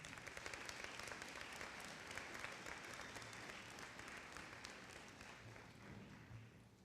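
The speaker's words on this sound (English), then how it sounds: "Graduates, please take a moment and applaud the loved ones who have accompanied you on your journey" Sustained audience applause at a 2023 high school commencement ceremony, graduates clapping for their loved ones; a steady, dense wash of many hands, moderately distant and fading slightly toward the end, with no talk.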